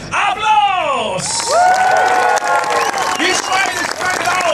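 An audience at a medieval-style fair storytelling show of The Three Little Pigs claps and cheers, with whoops and children's shouts over a steady patter of applause, while a performer's voice carries over the crowd.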